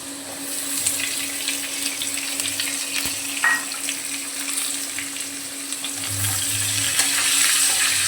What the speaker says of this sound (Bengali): পেঁয়াজটাকেও লাল করে ভেজে নেব।